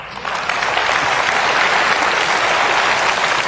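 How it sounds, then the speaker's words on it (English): Audience clapping at a talk, rising quickly from a soft start into a dense, steady round of applause that holds close and loud to the end, with no talking over it. "Give them a clap, they've done well."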